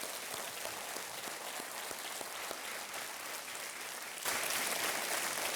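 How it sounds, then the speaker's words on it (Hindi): Studio audience on a televised Hindi quiz show applauds steadily, a dense, even clapping that swells louder near the end, with no talking over it. "एक बार फिर मंजू सिंह जी के लिए तालियां।"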